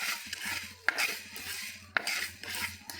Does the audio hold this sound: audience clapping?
no